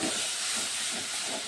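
Water poured onto hot fried spices for a Bengali carp fish curry gives a loud, steady hiss like escaping steam, close and continuous, with no voices.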